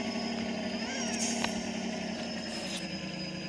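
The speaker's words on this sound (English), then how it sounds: "I'm gonna keep the engine running." A tractor engine runs steadily in a Roblox farming game, a continuous low mechanical drone with a faint rising whine in the background and no speech.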